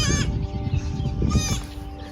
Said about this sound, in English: There's some goats playing.